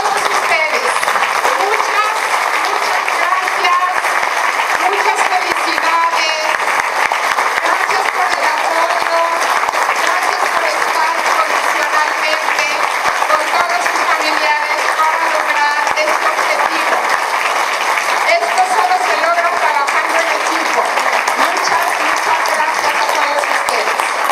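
Sustained applause from a large audience at a December 2022 graduation ceremony, a dense, steady roar of many hands clapping that continues loudly and without a break from start to finish.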